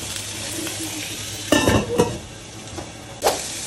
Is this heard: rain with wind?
no